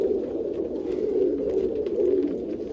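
Pigeons or doves cooing inside a coop, a continuous overlapping chorus of low, throaty coos that rise and fall close by, with no talking.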